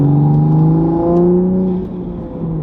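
A manual MK5 Toyota Supra engine revs up and then eases off, with a smooth, strong tone heard close for under three seconds.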